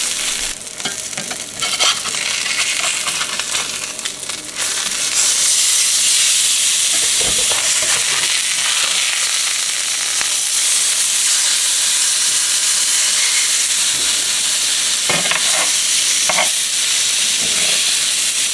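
Salmon fillets hit a smoking-hot pan over very high heat and fry with a loud, steady sizzle and hiss that lasts throughout, with a few brief clatters of the pan.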